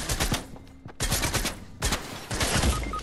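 Rapid bursts of video game gunfire, close and loud, come in several volleys separated by brief pauses, with a blue shotgun among the weapons; no one speaks over them.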